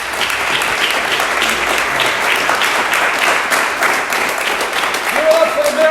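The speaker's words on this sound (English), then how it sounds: "give it a round of applause." Audience applause at an evening real estate investing talk with the mayor of Fall River, steady dense clapping throughout, loud and close, with a few voices mixed in.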